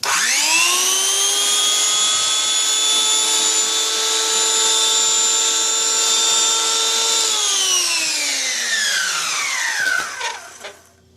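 Close, loud high-pitched whine of an unused 1970s Skil 100 electric planer running freely with no wood, holding a steady tone for several seconds before the motor is cut and the pitch glides down as it spins to a stop.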